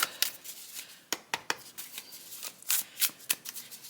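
Tarot cards are shuffled by hand in a run of crisp, irregular riffling bursts, close and fairly quiet, with no voices.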